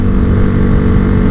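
A Honda Fan 160 motorcycle from 2016, fitted with a performance camshaft and a sports exhaust, idles loudly and steadily up close with a deep, even engine drone and no talk.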